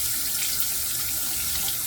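A bathroom tap runs steadily into a sink for a rinse during a wet shave, a close, even hiss of flowing water with no talk.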